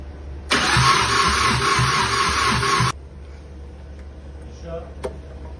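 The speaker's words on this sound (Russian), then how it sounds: "Пока что у нас нету выхлопа, но будем пробовать запускаться вот так." A Zhiguli (VAZ) car engine with no exhaust fitted cranks loudly for about two seconds with a rhythmic starter churn, then stops without catching on a dying battery, leaving a quiet background hum.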